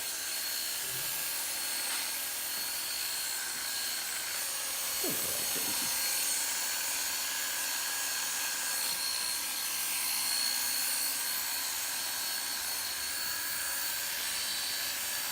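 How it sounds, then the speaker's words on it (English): An electric trimmer clipping a setter dog's coat gives a steady, even motor buzz with a faint whine that runs unbroken for the whole stretch, with no talk. "This trimmer has 2 speeds."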